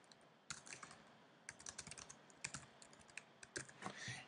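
Quiet, close clicking of keys on a computer keyboard in irregular short bursts with brief pauses, alone without any voice.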